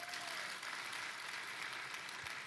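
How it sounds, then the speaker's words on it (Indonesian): Church congregation clapping at a service: a steady, dense wash of many hands applauding throughout, fairly faint and distant, with no voices over it. "Tepuk tangan lebih keras lagi"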